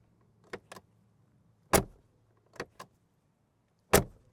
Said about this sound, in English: because these doors are so heavy, you really have to slam them shut